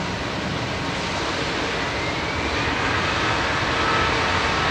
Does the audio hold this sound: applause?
no